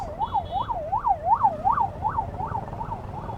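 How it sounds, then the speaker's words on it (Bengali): An ambulance siren wails with a rapid rising-and-falling yelp, repeating about every third of a second on a highway after an accident. It sounds moderately near and slowly fades toward the end. "অ্যাম্বুলেন্স"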